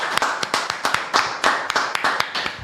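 A studio audience claps to welcome a guest onto a talk show, a dense run of sharp hand claps with regular loud peaks, close and steady throughout.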